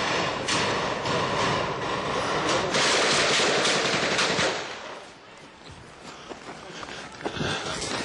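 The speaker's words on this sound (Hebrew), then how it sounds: "יורים עלינו עכשיו מהבית פה ליד." Rapid bursts of gunfire from a nearby house crackle loudly for several seconds, then ease into scattered shots and a lower, rumbling background.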